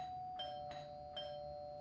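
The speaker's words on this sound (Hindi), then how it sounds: "थोड़ी देर बेल बजा बजा के थक के चला जाएगा" A doorbell rings in a home in a TV drama: a clear electronic chime with a steady ringing tone and three evenly spaced pulses, close and alone without talk.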